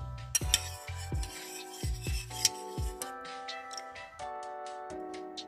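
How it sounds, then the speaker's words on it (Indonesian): A spoon stirs food coloring into clear water, giving a run of bright, close clinks and ticks against the container, some quick and clustered and others evenly spaced. No voices are heard. "Lalu aduk hingga rata dan menghasilkan warna yang diinginkan."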